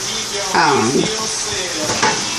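Meat being stirred and coated with flour in a hot pan for beef over rice, a steady sizzle with scraping strokes and soft clinks, close and moderately loud.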